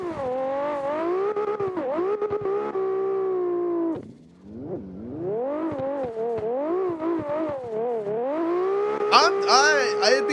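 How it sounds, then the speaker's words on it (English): Racing video game cars drifting up a mountain road, engines whining and revving in sliding pitch sweeps that rise and fall continuously, loud and up front, with a short dip partway through and layered tones toward the end. "welcome to us mindlessly drifting up the side of a mountain."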